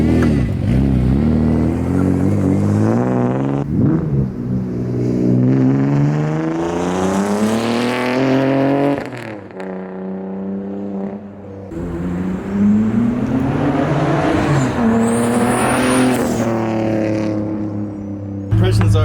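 Engine of a BMW E36 turbo with a 3-inch straight pipe, heard as the car revs, accelerates and drives past, rising and falling in a loud, raspy drone that recurs over roughly nineteen seconds, with some voice present.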